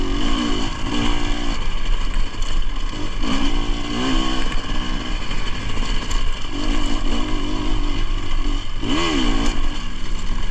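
Dirt bike engine on a Pacific Northwest singletrack trail, close and loud, with a steady buzzing drone broken by repeated short revs and pitch swings as the rider works the throttle, plus light clatter.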